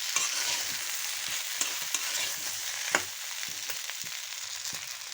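Chalta (elephant apple) pickle is stirred in a pan, a steady close sizzle with repeated soft scrapes and knocks of the spoon at an uneven rhythm, no voices.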